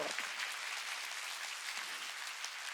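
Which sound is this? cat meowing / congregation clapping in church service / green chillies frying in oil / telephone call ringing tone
congregation clapping in church service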